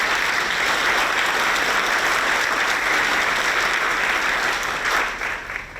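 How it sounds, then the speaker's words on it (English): An audience applauds at a school ribbon cutting ceremony: steady, dense clapping from many hands, loud and sustained for several seconds before tapering slightly at the end, with no talk over it. "Why don't you give them all a round of applause"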